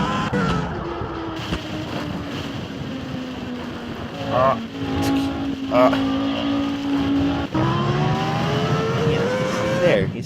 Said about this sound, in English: You see, it's a nice Formula One car.